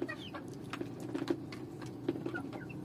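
Roosters and hens in a backyard flock cluck faintly and sporadically in short bursts over a low, steady background, fairly distant and soft.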